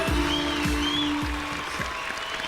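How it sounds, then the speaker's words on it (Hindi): Audience applause at a Hindi poetry show, brisk clapping heard under a voice and a few heavy low thumps, fading slightly toward the end. "जोरदार तालियां।"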